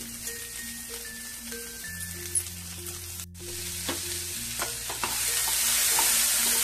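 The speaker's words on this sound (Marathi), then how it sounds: "छान परतून द्यायचे वाटाणे" Green peas sautéing in a pan for matar kachori filling, a continuous soft sizzle with occasional light stirring scrapes, growing a bit louder and hissier toward the end.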